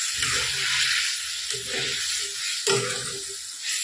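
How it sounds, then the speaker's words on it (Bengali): Egg curry gravy poured into a hot pan, a bright hiss and sizzle with a few low bubbling bursts and stirring knocks, close and without talk. "তো বন্ধুরা দেখো ঝোলটা ঢেলে দিলাম।"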